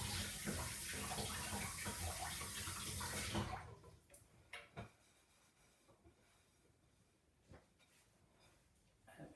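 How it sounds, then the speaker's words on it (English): Water swirling and sloshing in a cooking pan at a home cooker, a loud steady rush for about three seconds, then quieter clinks and handling sounds. "just quickly swirled that in water"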